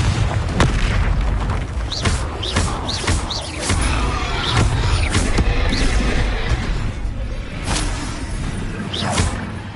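Explosive spell blasts from Hogwarts Legacy on PS5 go off in rapid succession, heavy booms and thuds with swooshing casts layered densely over one another, loud and continuous throughout.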